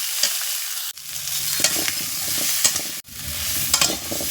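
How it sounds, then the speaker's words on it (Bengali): Hog plums being stirred in a pan for a sweet pickle, with repeated scraping and stirring strokes over a steady sizzling hiss, close by and alone. "একটু আমড়াগুলো নেড়ে নিতে হবে"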